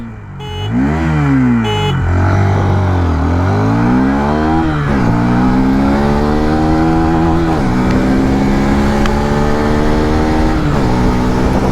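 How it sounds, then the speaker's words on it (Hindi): Hero Xtreme 160R 4V motorcycle in an acceleration test, its single-cylinder engine revving hard up through several gears with rising whines and brief dips at each shift, loud and close throughout. "चलिए अब इतनी इंजन के बारे में बात हो रही है तो एक्सेलरेशन टेस्ट जो है वो भी कर लेते हैं"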